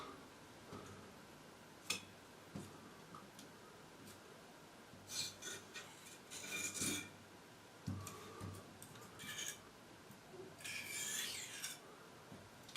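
A pencil drawing figures on paper makes quiet, intermittent scratching strokes in short bursts with pauses between them, close by and otherwise near-silent.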